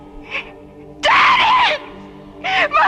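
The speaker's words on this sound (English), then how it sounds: "When we heard you scream, we didn't know what to think." A woman screams in a classic sci-fi radio drama, several loud, shrill cries with wavering pitch, the longest held for most of a second, separated by brief quieter gaps.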